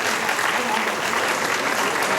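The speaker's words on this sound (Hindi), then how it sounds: "तालियां रुकनी नहीं चाहिए।" Dense, continuous applause from a seminar audience at a wellness launch celebration, loud and even throughout, with no break in the clapping.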